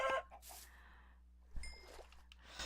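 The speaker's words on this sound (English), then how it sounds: "Did you see how far that chicken went?" A chicken in the Minecraft video game gives a few short clucks, quiet and brief, along with faint game sound effects and low background hum, with no voice.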